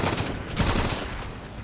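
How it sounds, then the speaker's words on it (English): Rapid bursts of gunfire crackle in the video game Drawn to Death as a fairy is shot, a dense, continuous volley that stays fairly loud with no pauses and no voices. "I have to shoot the fairy."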